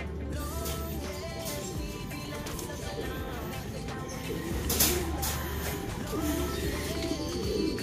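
Pigeons cooing near a racing loft during a mid-distance race, steady bird calls layered over a constant low hum while people talk throughout.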